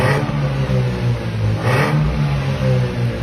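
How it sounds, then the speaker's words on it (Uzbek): A car engine revs through an aftermarket sport exhaust muffler, a loud rising and falling burble with a sharp throttle blip near the middle, close and alone. "Gaz bering."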